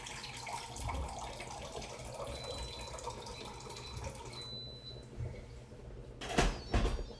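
Water runs steadily into an Instant Pot while cooking beans for a burrito bowl, a continuous close splashing flow that stops partway, followed by a couple of clunks.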